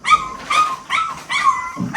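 A tiny puppy, only two to three weeks old, whimpers and yips in a series of thin, high, drawn-out cries, four or five in a row, close and fairly loud.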